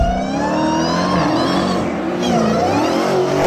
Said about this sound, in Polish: czyli dźwięk kompresora przypominający wydzierającego się kota